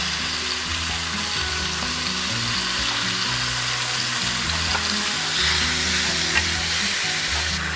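Partly frozen beef offal with its broth sizzles and bubbles in a hot pot, a loud, steady crackling fry that fills the clip without any voices.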